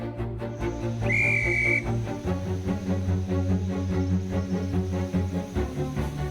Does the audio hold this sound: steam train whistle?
yes